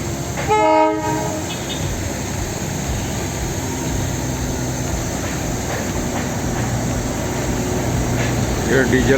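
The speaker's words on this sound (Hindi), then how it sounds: "ये डीजल वाली टॉय ट्रेन है।" Diesel-hauled toy train on the Darjeeling line running with empty coaches to the loco shed, a brief horn blast near the start, then a steady rumbling run continuing under a low murmur of nearby voices.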